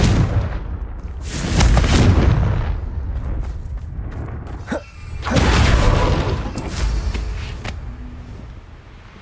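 Heavy explosive booms from the Confringo blasting spell in Hogwarts Legacy: two big rumbling blasts, several seconds apart, each swelling loudly and then decaying, with a sharp crack between them.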